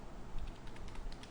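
Quick, light key taps on a computer keyboard as text is typed, a faint, rapid clatter heard alone over a low background hum.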